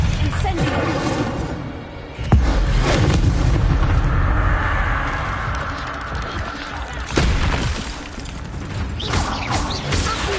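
An Incendio fire spell cast against spiders in Hogwarts Legacy, heard as sudden booming whooshes of flame that erupt twice over rumbling game effects, with a voice speaking in between.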